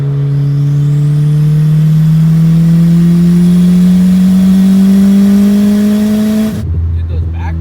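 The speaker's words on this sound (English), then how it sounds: "Dude, those backfires are real though." A boosted Honda CRX engine revs on a dyno, a loud near rising drone climbing steadily in pitch before abruptly cutting off, followed by a brief settling rumble.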